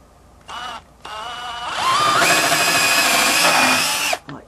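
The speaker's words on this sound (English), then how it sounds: "I'm just going to drill right through there." A power drill bores through a wooden headboard frame for mounting holes, a short whine then a sustained loud motor buzz that rises in pitch as the bit bites and cuts through, close up, stopping abruptly.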